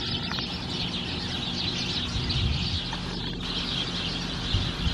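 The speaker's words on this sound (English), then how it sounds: "I wonder what the birds are having a fit about." Garden birds call agitatedly, repeated sharp clucking and chirping calls at moderate distance over a steady outdoor background hum.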